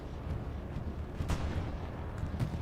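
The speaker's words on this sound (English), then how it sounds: "this is a MERC bombing run onto Pierre's" A bombing run in the WWII game Hell Let Loose, a steady low rumble punctuated by a few heavy explosion thumps, one sharp blast standing out midway, continuous and fairly loud with no voices.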